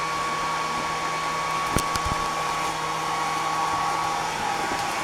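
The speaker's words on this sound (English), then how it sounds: "I like to give them a little run with the blow dryer before I bathe them" A blow dryer runs steadily and loudly throughout, a constant close whooshing whine with a couple of faint clicks early on.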